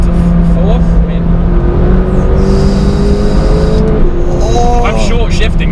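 A McLaren 570GT sports car accelerates hard after a downshift into fourth gear on a volcano road, its engine loud and close with a rising, strained roar that climbs steadily and then swells again near the end.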